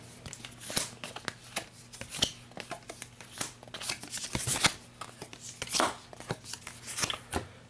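Marvel Legendary deck-building game cards being shuffled at close range, a steady run of crisp riffling slaps and flicks with brief pauses between passes, no one talking.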